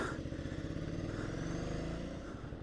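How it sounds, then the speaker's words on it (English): A 2020 Ducati Scrambler Sixty2 motorcycle engine idling close by, with a steady, lumpy low throb and faint mechanical clatter and no talk. "This bike did not sound that good when we were doing the sound check. It sounds way better now."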